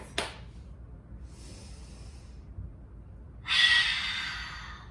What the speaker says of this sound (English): Here's a lung breath.